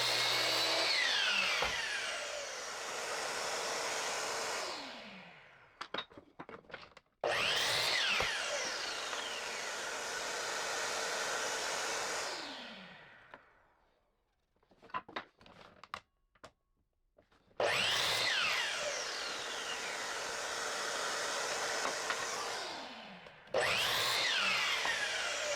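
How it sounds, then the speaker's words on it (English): A miter saw slices through 2x6 lumber offcuts in three loud bursts, each one winding up with a descending whine and then spinning down, separated by short pauses filled with clacks and handling knocks. "Go cut that on the miter saw 4 times."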